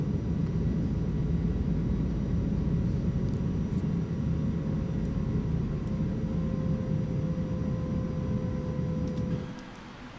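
Airbus A320 with IAE engines taking off at a London Heathrow runway in X-Plane 11, a steady loud roar of jet engines with a faint whine, holding constant before cutting off abruptly near the end.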